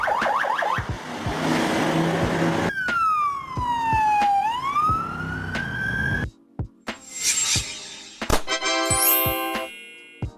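Estonian ambulance sirens, from vans such as the Mercedes-Benz Sprinter, Volkswagen Crafter and Ford Transit, shift through several patterns: a rising and falling wail, then rapid yelping bursts and tones, loud and close.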